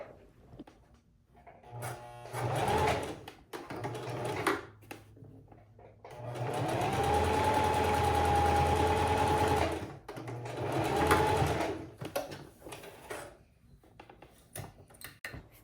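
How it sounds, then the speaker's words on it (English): A domestic sewing machine runs a straight stitch along the elastic channel of a linen pants waistband, whirring in several bursts of a few seconds each with short pauses between, close and steady. "go ahead and use a straight stitch to close the channel, and that way the elastic will be secure inside"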